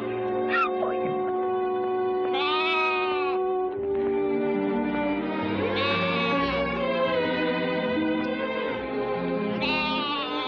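Lambs bleating in drawn-out, wavering cries that overlap and recur every couple of seconds, close and loud over a dense, sustained tonal background.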